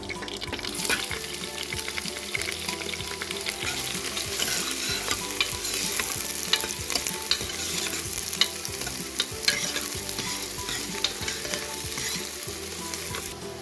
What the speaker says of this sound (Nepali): तेल तातिसक्यो, तेजपत्ता हाल्दैछु अनि लङ सुक्मेल पनि हाल्दैछु। प्याज पनि हाल्दैछु।